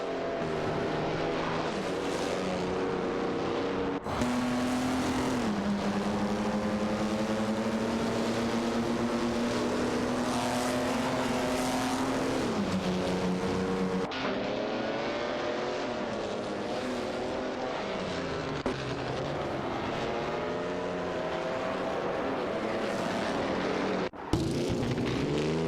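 Racing car engines from a video game, including a Ferrari 246 F1 and a Mercedes-Benz 196, drone loudly and continuously with rising and falling pitch as the cars jostle for position, alone without talk.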